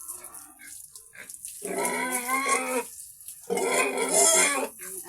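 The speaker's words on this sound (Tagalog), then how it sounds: "Yung aking Mama Pig." A mother pig on a farm, being bathed with water, grunts and squeals in two strong drawn-out bursts, close and loud, with splashing water in between.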